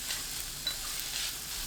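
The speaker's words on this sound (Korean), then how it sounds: "팬을 예열하고 가지 넣어 센 불로 볶아주세요." Eggplant stir-frying over high heat in a preheated pan, a steady soft sizzle with faint stirring scrapes, close and alone.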